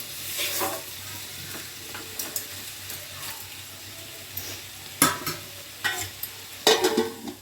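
Bottle gourd pieces fry in oil with a steady sizzle, broken by sharp spatula stirs and scrapes against the pan, close up with no talk.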